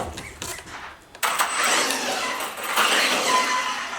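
Maverick Quantum Flux RC car fitted with a metal spur gear, quiet at first, then a sudden loud high-pitched motor and drivetrain whine that holds steady and close for the rest of the time.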